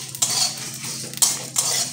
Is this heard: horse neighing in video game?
no